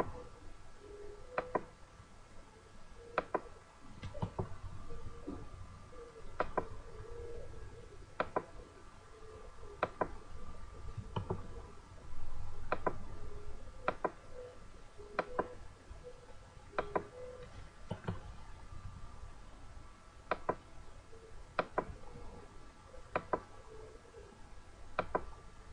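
A computer mouse clicks sharply and faintly at a slow, irregular pace against a quiet background hum, with single clicks spaced a second or two apart and no talk.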